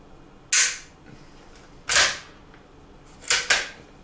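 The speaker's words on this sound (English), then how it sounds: "I will dry fire this, not that I would normally." A Browning T-Bolt rifle is dry fired with its bolt reinstalled, giving three sharp metallic snaps, the last one doubled, spaced over a few seconds and heard close up with no talking.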